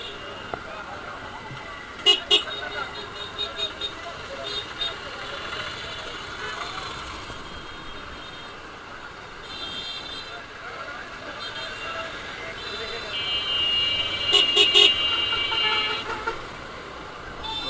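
Congested street traffic at Nathullabad in Barisal, Bangladesh, with a steady road roar and engines idling, broken by short car horn toots near the start and a louder burst of honking later.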